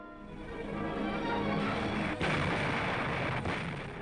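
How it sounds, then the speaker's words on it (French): Naval artillery shelling German coastal defenses during the WWII Allied landings: a continuous, loud roar of heavy gunfire and blasts with a brief dip midway, no voices. "Et l'artillerie de la marine s'attaquait aux murs d'acier et de béton de la forteresse Europe."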